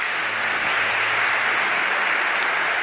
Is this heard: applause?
yes